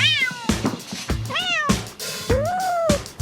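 A cat meows four times in quick succession after catnip, each call rising and falling, close and clear with brief gaps between, no voices over it.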